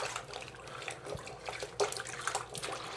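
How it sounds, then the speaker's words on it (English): Laundry washed by hand in a hotel sink with hotel shampoo: steady running and sloshing water with small splashes and drips, close and continuous, no talking. "instead of doing the laundry in the thing, I'm going to try doing it in the sink."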